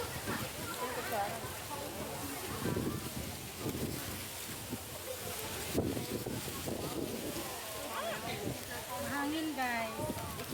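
Outdoor wind at Marina Barrage buffeting the microphone during a lunch outing, a steady rumbling gusty wash under close, frequent conversational talk.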